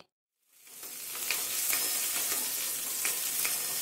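Chopped onion and red chillies frying in oil for a hotel-style red chutney, a sizzle that swells from silence into a steady crackling hiss with small pops.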